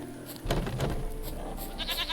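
Goat in the video game The Witcher 3 bleating several times in quick, wavering cries, close and fairly loud, with a softer bleat toward the end.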